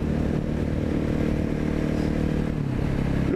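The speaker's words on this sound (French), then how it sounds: "Le petit coup de gaz." A KTM 690 SMC supermoto idles with a loud, close single-cylinder thump, the steady engine note rising slightly in a short throttle blip near the end.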